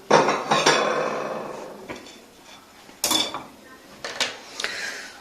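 Plates being taken out in a home kitchen, with sharp ceramic clinks and clatters in separate bursts, a loud rattle at the start and several crisp knocks later, close and fairly loud, with no talk.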